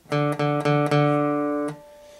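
A single guitar string is plucked four times in a steady rhythm, each note ringing clearly, the last held and fading out.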